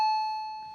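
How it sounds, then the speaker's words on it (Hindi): A single clear electronic doorbell tone rings out and fades slowly, heard alone. "घंटी बज रही है, कोई दरवाजे पर खड़ा"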